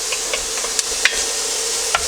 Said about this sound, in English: My garlic is getting browned.